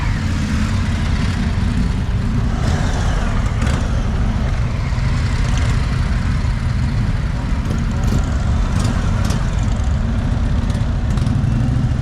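Indian motorcycles setting off on test rides from a dealership open day, a steady loud engine rumble filling the whole stretch.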